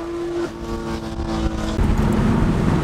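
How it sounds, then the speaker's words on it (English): A straight-piped GT3 sports car engine at a Los Angeles car rally, loud, raw and rumbling as it revs, its pitch holding and then dropping, heard close by without talk. "This straight pipe GT3 sounds so good."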